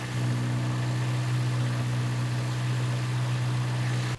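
A Toyota Hilux engine runs at a high idle, a close, steady drone that holds even for about four seconds before cutting off, with no voices.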